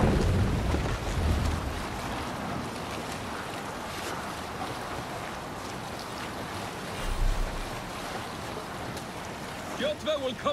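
A Viking longship at sea in Assassin's Creed Valhalla: steady rush of ocean waves and wind against the hull, with surf swells rising now and then and voices talking over it.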